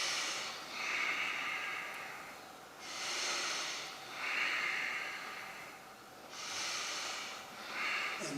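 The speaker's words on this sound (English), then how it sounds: "I just do some deep breathing as I'm holding" Deep, slow breathing during a held standing yoga pose, with three long, steady hissing inhales and exhales close to the microphone in a quiet room, no talking.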